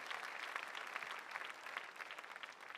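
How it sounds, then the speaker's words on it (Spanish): A church congregation claps in a sustained, dense round of applause, many hands at once and moderately distant, continuing throughout without a break. "Aplaudamos a Jesucristo."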